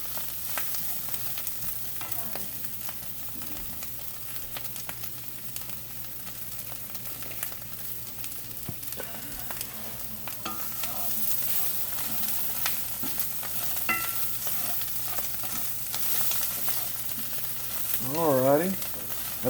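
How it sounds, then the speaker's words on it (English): Vegetables sauté and sizzle in a pan for cheap ramen, giving a steady close frying hiss with occasional stirring scrapes and a brief faint voice near the end. "Sauteed vegetables of any kind is just delicious."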